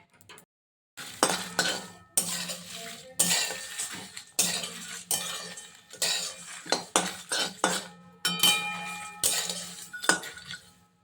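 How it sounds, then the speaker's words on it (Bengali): Whole garam masala spices are dry-roasted slowly in a pan on low heat, stirred with a utensil that gives repeated bursts of close metallic scraping and rattling clinks separated by short pauses. "গ্যাসটা একদম লো করে আস্তে আস্তে করে এটাকে ভেজে নিতে হবে"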